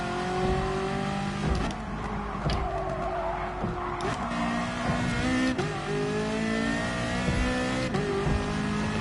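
Supercars including a Ferrari F40 and F50 racing in a PS4 driving game, with steady engine drone, revving and tire skids close up, the loud motor noise running throughout without talk.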